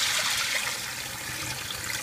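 Tap water runs steadily into a bowl or sieve of short grain rice being rinsed, a continuous close splashing rush with no talk.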